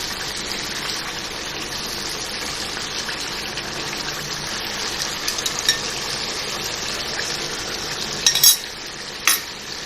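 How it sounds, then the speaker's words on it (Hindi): Chicken karahi gets stir-fried in a pan, a continuous soft sizzle broken near the end by a few clinks of a utensil scraping and stirring, with no voices. "अब मैं इसकी भुनाई करूँगी 2-3 मिनट"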